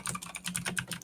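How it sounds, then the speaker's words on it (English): Rapid typing on a computer keyboard, a quick irregular patter of close, crisp key clicks, heard alone with no talking. "Did you hear me typing"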